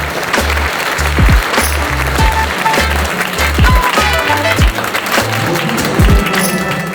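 Applause rings out at the opening of an art gallery in Rybnik, loud and continuous, while a steady low rhythmic music beat pulses underneath.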